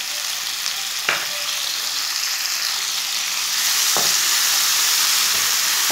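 Finely chopped tomatoes fry in a pan with ginger paste for a beef kofta curry, giving a loud, steady sizzle broken by a few sharp scrapes of a spoon stirring.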